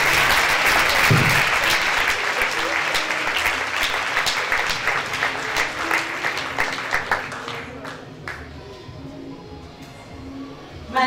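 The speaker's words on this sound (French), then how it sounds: "Acclamez pour Jésus." A church congregation applauds and cheers for Jesus in a sustained, dense round of clapping that gradually thins and fades toward the end.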